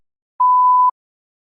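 A single steady electronic tone at about 1 kHz sounds once for half a second, cueing the start of a spoken exam response, with silence before and after.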